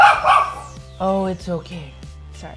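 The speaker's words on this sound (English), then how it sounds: "that's my dog" A dog barks and yips close by in a few short, loud bursts, with someone speaking softly over and between them.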